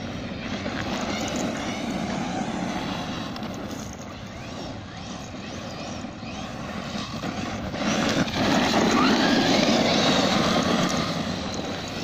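A ZD Racing Pirate 2 RC car runs on a Turnigy XK-4074 2000KV electric motor with a 15T mod1 pinion, a loud buzzing whine that rises and falls as it drives, swelling louder near the end.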